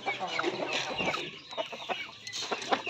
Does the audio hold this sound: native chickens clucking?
yes